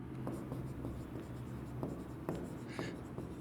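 A pen scratches and taps on paper during a standard maths lesson on surface area, with soft, close strokes and small ticks repeating at an uneven pace over low room noise.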